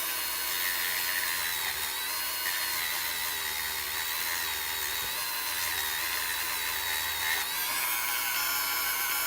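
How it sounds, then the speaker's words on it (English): A variable speed rotary tool sands down the edges of a piece for a forced shipwreck patina, a steady high-pitched whine running loud and continuous throughout with no talking. "So we're just sanding the edges down."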